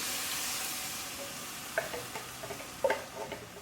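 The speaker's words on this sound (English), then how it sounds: "to our 2 onions and 5 cloves of garlic, we're going to add a 28-ounce can of, excuse me, crushed tomatoes" Canned crushed tomatoes go into a pan of sizzling onions and garlic, giving a soft steady fry, then a few wet clatters and stirring taps close by, fairly quiet.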